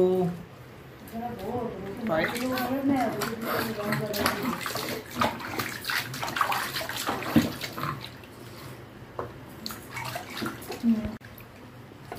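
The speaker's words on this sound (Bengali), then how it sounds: "আমরা ডেলি রুহিকে হচ্ছে গিয়ে অয়েল ম্যাসাজ করিয়ে আর শ্যাম্পু দিয়ে স্নান করাই" Water splashes and sloshes in a baby's bath during a daily shampoo bath, continuing steadily under frequent adult talk and a voice.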